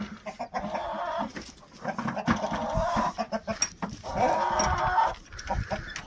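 Chickens clucking on a village farm among other farm animals, a busy run of overlapping clucks and calls at close range with no talk.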